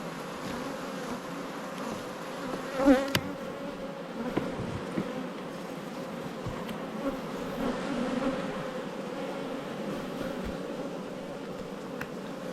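Honeybees hum steadily around an open hive during an inspection in an Australian apiary. The buzzing is close and constant at moderate volume, with a brief knock or rustle near the start.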